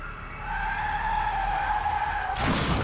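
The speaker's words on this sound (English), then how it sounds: "The car they were riding in couldn't control its speed anymore and hit a giant tree on the side of the road and overturned." Car tires squeal in a long, loud skid for a couple of seconds, then a sudden burst of broadband noise hits as the car crashes, a sound effect with no talking.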